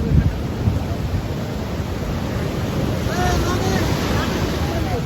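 Ocean waves at Harihareshwar beach at high tide make a continuous loud rushing wash, mixed with heavy wind buffeting against the microphone and faint voices.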